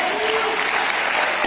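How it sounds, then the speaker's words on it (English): A crowd at a Jacksonville sports league team-name announcement claps loudly and steadily, dense applause filling the whole short moment. "You can clap for yourselves."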